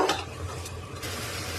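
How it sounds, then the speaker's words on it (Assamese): Joha rice is stirred and fried in a pressure cooker pot, a soft continuous sizzle with scraping stirs and a light clink of the utensil against the metal. "ভালদৰে চাউলখিনি ভাজি ল'ম"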